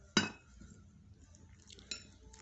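A spoon clinks against a bowl while flour paste is mixed with water for a potato batter, two sharp metallic strikes with soft stirring scrapes between them, close and alone.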